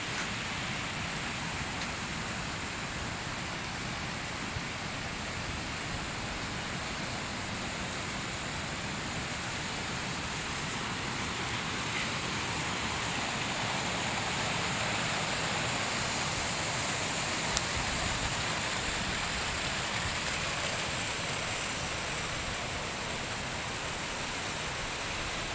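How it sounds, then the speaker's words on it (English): Steady running water hisses continuously throughout, a broad rushing wash like a fountain or cascade, unchanging in level, with no voices. "Do you hear the water?"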